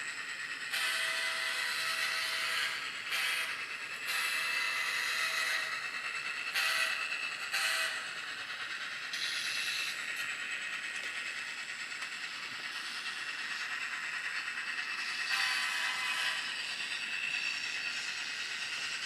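N scale Atlas Gold CN GP40-2W model locomotive running near a crossing, with a steady high, metallic wheel squeal and rolling rail noise that continue throughout, swelling in brief louder bursts.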